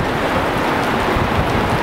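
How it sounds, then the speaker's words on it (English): Rain falls outdoors in a storm, a steady, loud wash of hiss and patter with a rumbling low end, continuous for the short span and without any talking. "Ah, there's rain there."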